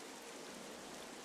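Steady rain falling on a dark, cursed island in the video game Zelda: Wind Waker HD, a continuous even hiss of downpour with no voices, heard briefly and at low level.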